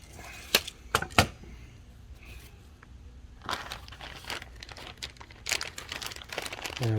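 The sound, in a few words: cutting plastic floating plant barrier for koi pond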